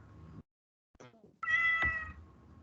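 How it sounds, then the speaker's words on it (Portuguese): Mobile phone ringtone of a cat meowing, clear recorded meows in separate bursts, close and fairly loud, with a longer drawn-out meow at the end. "O meu celular tá miando aqui."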